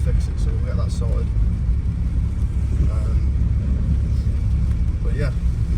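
A 2004 BMW 320d E46 with the M47 diesel engine, driving on the road after a new clutch and flywheel, giving a steady low engine and road rumble that holds loud and constant throughout.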